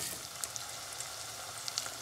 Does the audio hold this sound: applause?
no